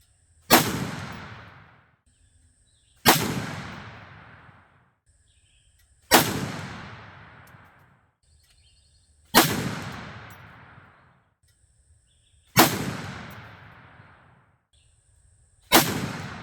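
Six heavy gunshots from a PCC Deerfield carbine firing maximum-charge W296 hand loads with Hornady 240-grain XTP bullets, spaced about three seconds apart, each a sharp loud crack with a long decaying echo, with no talking.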